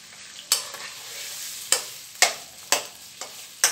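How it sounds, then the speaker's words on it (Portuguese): Soft background sizzle of sausage frying in oil, punctuated by five or six sharp scraping clacks of a utensil stirring it in a hot pan, spaced irregularly. "para fritar a linguiça, vocês não colocam tempero, apenas o óleo e a linguiça"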